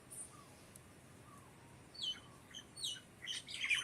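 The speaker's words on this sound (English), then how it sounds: "I hear birds. I hear the birds." Faint bird chirps and tweets come from a distance, scattered and sparse at first, then clustering into quick bright calls toward the end over a quiet hiss.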